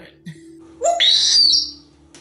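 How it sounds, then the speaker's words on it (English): An African grey parrot gives a short rising call followed by a long, loud, high whistle that fades, heard alone indoors against a faint steady electrical hum. "And then there's Einstein, another African gray parrot."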